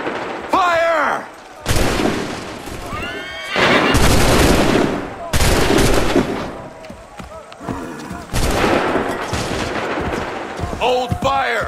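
Musket volleys from ranks of soldiers in Assassin's Creed 3, several loud crackling bursts with booming tails separated by short pauses, with shouted commands between them.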